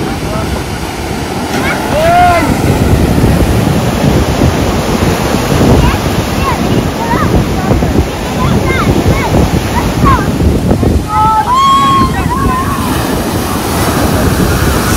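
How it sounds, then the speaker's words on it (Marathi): Rough high-tide sea waves crash and surge onto Devgad beach in the Konkan, a loud continuous roar of churning surf with heavy wind buffeting the microphone and people talking over it. "ते बघा कसल्या लाटा येत आहे, खतरनाक पाणी उसळलेलं आहे."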